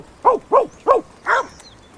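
A hog hunter in South Texas brush imitates a dog with his voice, giving four short, sharp barks in quick succession, close and loud against quiet surroundings.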